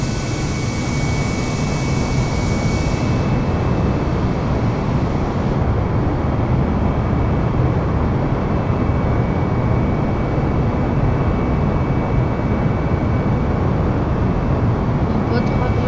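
Airbus A320neo engines at takeoff thrust in Microsoft Flight Simulator 2020 give a loud, steady, dense roar that holds unbroken for the whole stretch.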